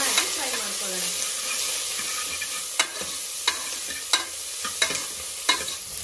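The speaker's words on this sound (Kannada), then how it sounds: "ಇದಿಷ್ಟು ಹಾಕಿ ಚೆನ್ನಾಗಿ ಫ್ರೈ ಮಾಡ್ಕೊಳ್ಳೋಣ" Ginger, garlic, black pepper, onion and tomato sizzle steadily in a hot pan, a dense continuous frying hiss punctuated by several sharp clicks of a spoon stirring and scraping, close and fairly loud with no talking.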